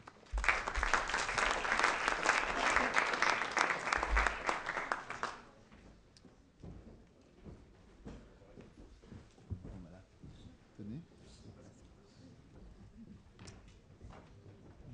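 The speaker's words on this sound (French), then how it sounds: "Et je vous demande de les applaudir." Conference audience applauding as experts take their seats, a dense burst of clapping for about five seconds that stops abruptly, followed by quiet room noise, shuffling and faint movement.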